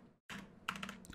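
Numbers typed on a computer keyboard: a short quiet burst of rapid key clicks after a brief pause, close by and with no voice over it.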